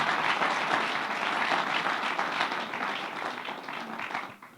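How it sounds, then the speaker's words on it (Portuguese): A church congregation gives warm welcoming applause, a dense, steady clatter of many hands that holds level and then fades out near the end. "Vamos dar um aplauso, pode ser?"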